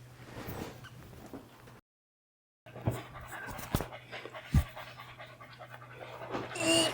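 A dog pants in rapid, close breaths, broken by a brief silent gap, with a low background hum and a few soft thumps.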